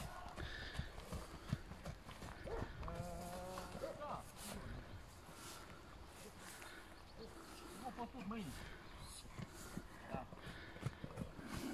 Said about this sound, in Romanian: Un exemplar frumos de cal